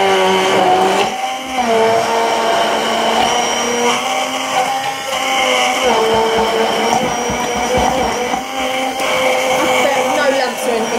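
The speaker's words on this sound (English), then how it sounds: "my handheld blender." A handheld blender mixing pancake batter, a loud whirring motor running continuously with slight pitch shifts as it churns, close up and steady for the whole stretch.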